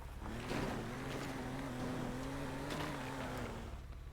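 A Lamborghini's engine drones steadily while the car is driven through a city in the video game Teardown. The hum is loud and continuous, holding an even pitch with slight swells and no talk over it.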